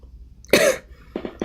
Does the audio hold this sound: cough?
yes